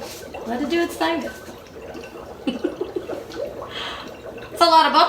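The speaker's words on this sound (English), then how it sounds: "That's the dry ice bubbling. So the carbon dioxide is releasing into the water." Dry ice bubbles and fizzes in water, releasing carbon dioxide, with irregular gurgling and splashing bursts close by, partly mixed with people talking.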